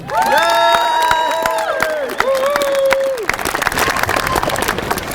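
Loud crowd cheering and clapping at the Hamtramck High School 2025 graduation ceremony, with sustained whoops and shouted cheers over dense applause that thins into scattered claps.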